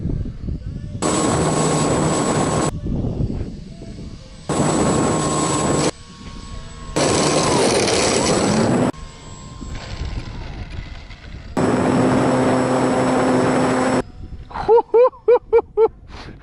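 An E-Flite Apprentice 15e electric RC model plane flies overhead, its motor whining in loud, steady bursts that cut on and off, with a rapid rattling flutter at the end and no speech.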